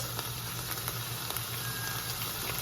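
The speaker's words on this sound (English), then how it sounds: "Wow, this is really sizzling." Ground beef seasoned with salt and garlic powder sizzles loudly and steadily in a hot pan, a dense crackling hiss with small pops scattered throughout.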